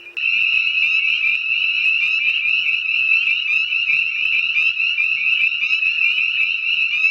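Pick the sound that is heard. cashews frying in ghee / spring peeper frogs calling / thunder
spring peeper frogs calling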